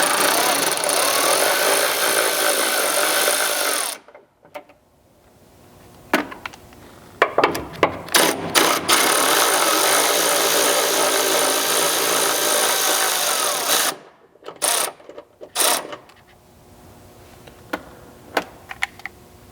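A power tool loosening the hood bolts on a Ford Maverick, heard as loud bursts of whirring broken by short pauses and several quick rattling pulses, close to the microphone with no talking.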